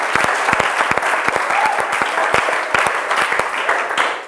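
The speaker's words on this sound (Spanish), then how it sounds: "Un aplauso para el grupo de tercer año." Applause from a small group of students at a Bible institute class, steady dense clapping with distinct individual sharp claps standing out near the microphone, continuing for a few seconds.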